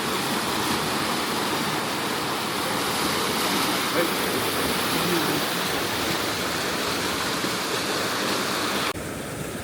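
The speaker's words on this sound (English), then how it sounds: "All the water gushing out there." Water gushes along the River Avon at Salisbury, seen from a bridge: a loud, steady broadband rush that continues without a break throughout.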